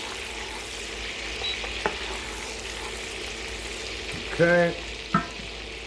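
Garlic sizzles softly and steadily in a hot pan while being stirred, with a few utensil taps on the pan and a brief spoken word.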